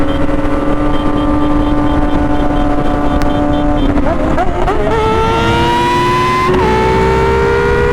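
Sport superbikes on a fast group ride, a Suzuki S1K, Kawasaki ZX10R, GSXR1000 and Honda CBR1000, rev and accelerate with rising engine pitch and gear changes, loud and continuous over wind noise with faint talk.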